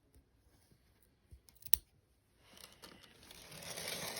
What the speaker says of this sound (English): I just cut this right here.